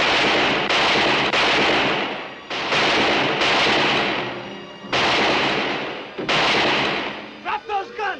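Gunfire in a western shootout among rocks, with broad bursts of shots and blasts filling most of the stretch, separated by brief pauses, loud and close, ending in a short flurry of scattered sharper cracks.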